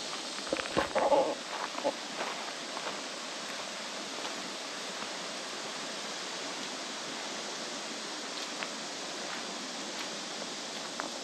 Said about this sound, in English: this is the Sylamore Creek below that little dam